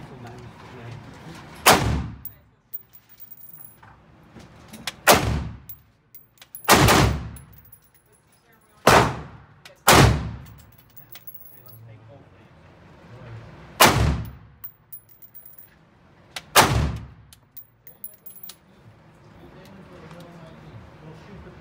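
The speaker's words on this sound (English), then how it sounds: "You're going to shoot the rifle now." AR-15 rifle fired outdoors, seven sharp loud shots spaced a couple of seconds apart, each with a short ringing decay, with people talking between and under the shots.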